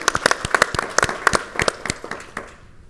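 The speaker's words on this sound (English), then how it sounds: "Yeah, we can clap for that." A short burst of hand clapping from a small panel-discussion audience, sharp and close, tapering off after a couple of seconds.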